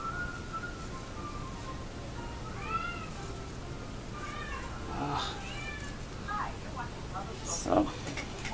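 A house cat meows several times in short rising calls, fairly close and moderately loud, over a steady background hiss during an oil painting session, with a brief louder sound near the end.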